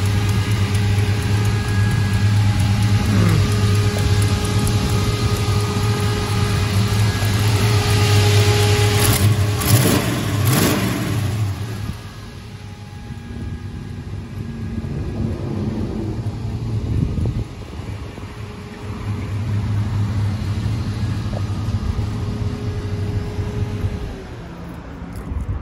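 A custom 1956 Mercury Montclair engine with a slight exhaust leak at the header collector idles with a loud, steady low rumble. A sharp burst rises near the middle, then the engine settles quieter before the rumble swells again, with wind noise over it.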